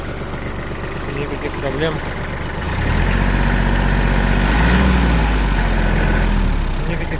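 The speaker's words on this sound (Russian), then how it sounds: "Сейчас продемонстрирую непосредственно запуск трактора." A 4WD mini tractor with reverse and power steering starts up, its engine catching partway through and settling into a loud, steady low idle with a deep rumble, while someone speaks over it.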